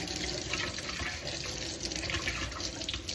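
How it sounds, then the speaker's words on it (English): Tap water runs steadily into a kitchen sink as hands are washed while a blackberry crumble dessert is being made, a continuous close splashing rush with no talk. "let me wash my hands"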